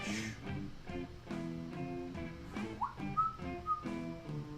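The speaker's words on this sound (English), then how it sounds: "You don't want to hear me hum and whistle." A person whistles a wandering tune while painting miniatures at a hobby desk, with clear, close, moderately quiet notes in a loose melodic rhythm and no talking.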